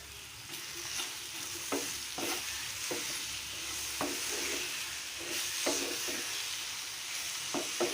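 Sweet mango chutney with coriander and red chili powders and jaggery being stirred in a frying pan, a soft sizzle broken by repeated spatula scrapes, quiet and close, with no talk.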